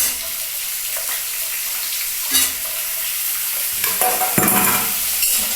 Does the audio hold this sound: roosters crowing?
no